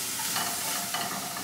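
Breakfast patty mixture with tamari gets stirred in a hot pan, giving a steady, fairly quiet sizzle with soft scraping swirls of the spoon throughout, no voices over it.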